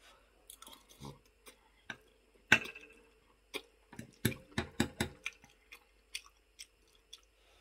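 Close, quiet chewing of hot food, with irregular crunchy bites and wet mouth clicks spaced apart in a quiet room.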